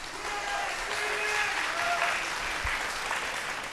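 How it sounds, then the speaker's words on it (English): An audience at a televised vocal competition show claps in sustained, dense applause, a steady wash of many hands at even loudness for several seconds. "Round of applause, please, for Dream Inn and all the support they have for the show."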